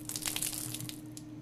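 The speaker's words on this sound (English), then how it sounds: "When I open the valve, I will drain the water until all of the water has been removed." Water draining through an opened valve in the video game The Last Door, a brief gurgling, crushing rush over a low steady hum, close and fairly quiet.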